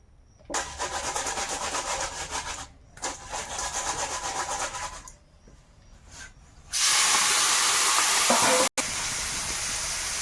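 Firewood is cut for an outdoor cooking fire in rasping, scraping bursts with short pauses, followed by a loud, steady hissing roar.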